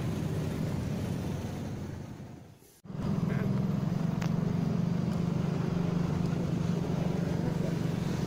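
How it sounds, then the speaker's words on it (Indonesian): Steady, dense rumble of cars and motorcycles on Merdeka Timur street in Jakarta, a continuous close traffic wash that briefly drops away near the three-second mark before swelling back to a constant roar. "Kendaraan masih lancar ya"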